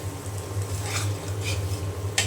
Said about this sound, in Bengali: সব কিছু দিয়ে আমি এখন এই যে মশলাটা খুব ভালো করে কষিয়ে নেব